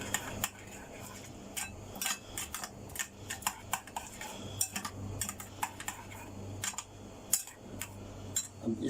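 Fish being mixed with ginger garlic paste in a dish, a close run of irregular light clinks and taps from a utensil against the dish, with no talking.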